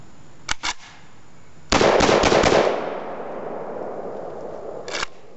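A Saiga 12-gauge shotgun fitted with a reliability kit fires cheap bargain shells: a couple of sharp early shots, then a rapid burst of several close, loud blasts with a lingering outdoor echo, and one more shot near the end.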